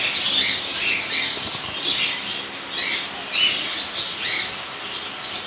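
Pigeons in a bird shop, with bright chirps and flutters of wings rising and falling in a soft, busy layer throughout, fairly close but moderate in volume.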